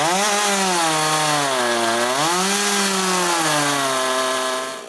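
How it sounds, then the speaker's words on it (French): A chainsaw cuts through an apple wood log, its loud, steady engine drone sliding up and down in pitch as the chain bites and the load shifts, running continuously without any talk. "ma scie à chaîne"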